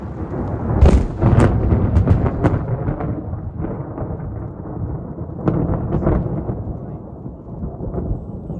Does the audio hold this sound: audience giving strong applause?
no